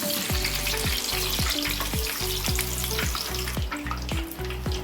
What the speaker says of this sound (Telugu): మిర్చి మంచిగా కాలాలి స్లోగా